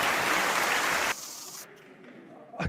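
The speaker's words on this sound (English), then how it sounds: "That does not deserve a round of applause." Loud applause from an audience at an Invictus event, dense clapping that cuts off abruptly about halfway through, leaving quieter room noise.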